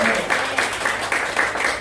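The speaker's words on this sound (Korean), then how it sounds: "목사님께 뜨거운 박수 한번 드리겠습니다." A church congregation at a national prayer meeting in Busan applauds for the pastor, with steady, dense clapping that surges in repeated waves across the short moment, loud and close.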